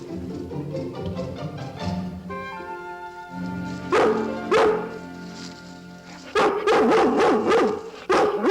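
A dog barks in several loud, sharp bursts, close by. A few are spaced out, then a rapid cluster comes near the end, with whining, tonal yelps between them.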